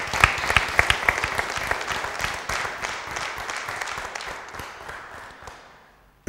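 A studio audience at a television show applauds with warm, dense clapping that holds steady, then gradually thins and fades out over several seconds.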